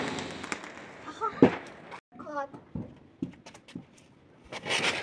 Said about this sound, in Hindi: ये तो विस्फोट हो गया, इसमें पटाखा था।